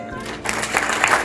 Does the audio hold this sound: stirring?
no